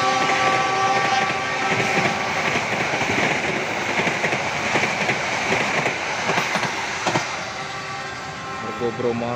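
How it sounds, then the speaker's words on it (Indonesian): The Argo Cheribon passenger train, hauled by a locomotive in Christmas livery, rolls past close by with a loud steady roar, clattering wheels and rattling carriages, while people talk nearby. "Dah, dapatnya lokomotif yang livery Natal."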